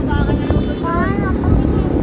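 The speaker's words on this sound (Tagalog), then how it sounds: "Sobrang lakas ng hangin." Strong wind roars steadily across the microphone at a fire scene in Tondo, Manila, a constant loud rumble with a faint voice underneath.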